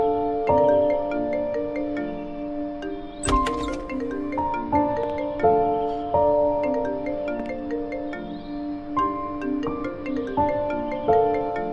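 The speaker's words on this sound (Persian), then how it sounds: "چرا به تلفن جواب نمیدهد؟" A phone rings unanswered, a melodic electronic ringtone repeating its tuneful pattern steadily and clearly for several cycles, with one sharp knock early on.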